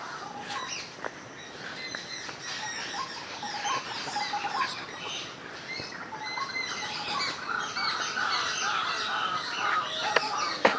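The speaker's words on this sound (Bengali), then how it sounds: "তোমরা এবার শোনো কত পাখি ডাকছে।" Several birds call outdoors, with chirps and tweets scattered across the stretch at varying distances, fairly faint over a steady background hiss.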